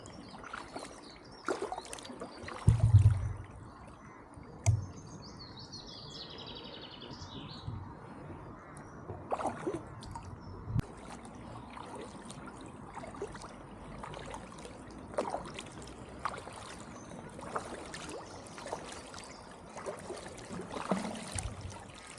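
A canoe or kayak being paddled through the Falkirk tunnel, with soft intermittent paddle strokes and water trickles echoing in the enclosed space, plus a few faint chirps.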